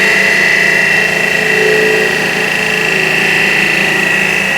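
A wood lathe spins a salt and pepper shaker blank held in a jam chuck, giving a loud, steady motor whine with an even, unbroken drone and no voices.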